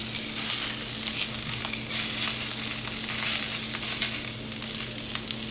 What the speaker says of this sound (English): We've already got this griddle preheated. So we're just going to go straight on with our sausage.